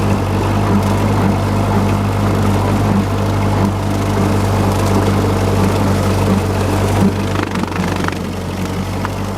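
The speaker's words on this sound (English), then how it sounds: "My Ford 8N tractor has a small 5-foot wide mower" A Ford 8N tractor drags a small 5-foot-wide mower through tall prairie growth, its engine holding a steady, loud, close drone with a low hum throughout.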